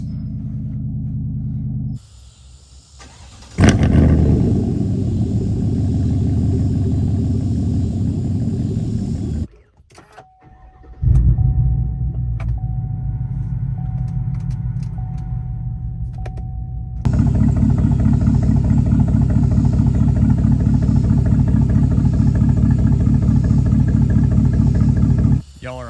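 A 2021 Chevrolet Silverado with true dual straight-pipe catback exhaust cranks over and fires into a loud, deep rumbling idle heard from indoors, with a brief lull before the rumble swells louder and steadier.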